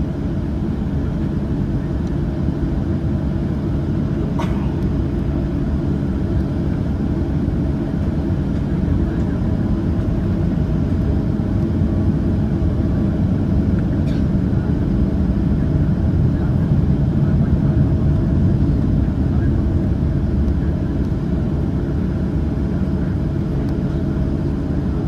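A Southwest Airlines Boeing 737-700 departs, its engines a steady, loud broadband roar heard from inside the cabin, holding constant throughout with no talking over it.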